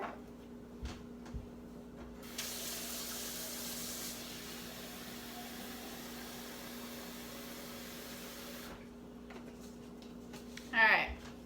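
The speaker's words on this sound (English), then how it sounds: "Gonna add some water." Water runs from a tap into a plastic shaker bottle holding creatine powder, a steady hiss-like pour lasting several seconds, preceded by a couple of faint knocks and followed by a brief sharper sound.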